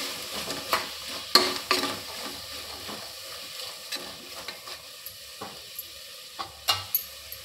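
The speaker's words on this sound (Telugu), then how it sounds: "ఆలు ముక్కలు బఠానీలు అవన్నీ కొంచెం మగ్గేంత వరకు మనం అలాగనే కలుపుతూ ఉండాలి" Potato pieces and peas being stirred in a frying pan, a soft steady sizzle broken by irregular scrapes and clicks of the spoon against the pan, close and moderately quiet.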